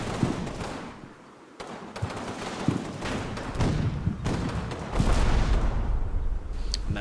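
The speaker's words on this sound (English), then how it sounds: "You can hear to the back right, their mortars shelling." Enemy mortars shelling in the Combat Mission video game, with repeated distant thuds and crumping impacts scattered at irregular intervals across several seconds under a low, rumbling battlefield background.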